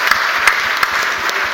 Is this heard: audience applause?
yes